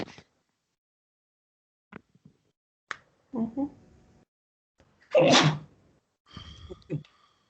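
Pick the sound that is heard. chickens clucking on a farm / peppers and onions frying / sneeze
sneeze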